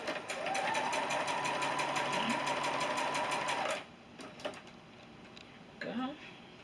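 A sewing machine stitches a quilt seam with a fast, steady, close mechanical whir for about four seconds, then stops, followed by light handling clicks and a brief short burst near the end.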